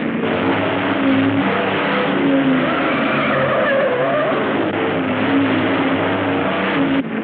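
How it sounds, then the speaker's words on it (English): Car chase in an old 1930s black-and-white film, with a pursuing car's engine droning steadily and loudly throughout, tires hissing and a rough, rumbling motor tone with no talk. "There's a car following us!"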